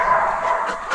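An excited dog barking and yipping close by, giving a brief, continuous burst of strained, high-pitched sound.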